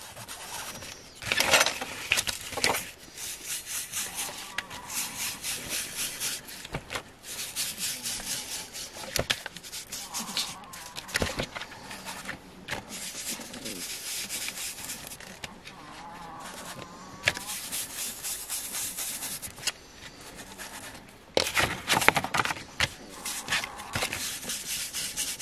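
Distress Photo Vintage ink being rubbed onto paper edges for a Santa envelope craft, repeated short scratchy dabbing and swiping strokes in irregular bursts, close and fairly quiet, with occasional soft talk.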